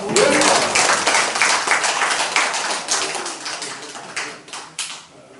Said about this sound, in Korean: 우리 박수 한번 보내드릴까요?